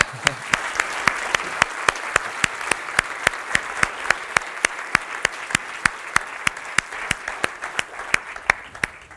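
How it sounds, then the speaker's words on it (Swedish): An audience applauds after a lecture on climate change measures, with a steady, strongly rhythmic unison clap at about three beats per second over a softer bed of scattered clapping. "vi tar en applåd"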